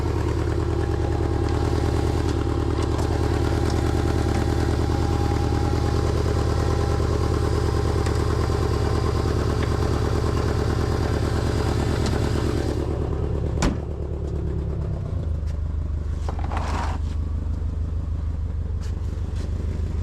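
A loud, rough Cadillac engine with a clogged catalytic converter drones steadily with a rattly, raspy exhaust, revving slightly and shifting tone near the end.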